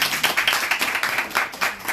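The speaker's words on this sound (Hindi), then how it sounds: "अच्छा लगे तो ताली बजनी चाहिए ना।" Audience clapping at an IMC home product meeting, a dense burst of hand claps from a small crowd, steady and fairly loud throughout with no talk.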